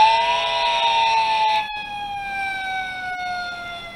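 A Fisher-Price Mickey Mouse Clubhouse toy fire truck siren wails steadily, then drops in pitch and continues a bit softer, a loud electronic two-layer tone with no talking.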